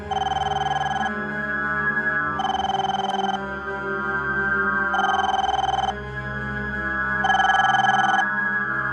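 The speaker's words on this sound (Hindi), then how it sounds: "ये अमित फोन क्यों नहीं उठा रहा है?" A telephone rings on and off unanswered in a tense horror drama scene, repeated bursts of an electronic ring separated by short pauses, loud and close over a low background music bed.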